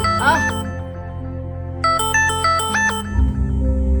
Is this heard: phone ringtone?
yes